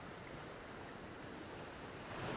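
Ocean waves wash onto a shore at sunrise as a steady, close rush of surf and hiss that swells slightly at the end, with no voices.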